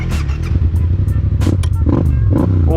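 Yamaha MT-07 motorcycle engine running up close, a loud, throbbing low drone with a steady pulse and rising revs, with brief sharp noises over it.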